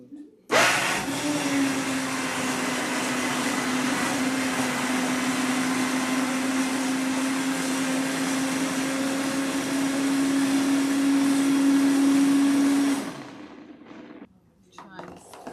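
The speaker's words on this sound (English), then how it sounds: "It's blending at the bottom, but it's not pulling it down." A blender running on vegan food with a struggling motor, loud and steady for about twelve seconds with a sustained whine that rises slightly before cutting off.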